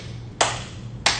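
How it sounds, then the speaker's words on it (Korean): Two separate hand claps in a quiet indoor space, about half a second apart, each sharp and fairly close, with a faint low hum underneath. "박수 소리가 우렁차게 납니다."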